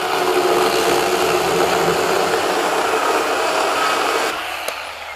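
A Ryobi 18V brushless 8-inch pruning saw cuts continuously with a steady, loud, high motor-and-chain whine, easing off near the end.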